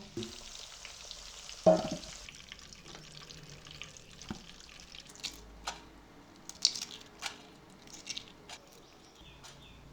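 Potatoes fry in oil with a soft, bubbling sizzle, punctuated by a loud clatter early on and then scattered clicks and scrapes of stirring in the pan.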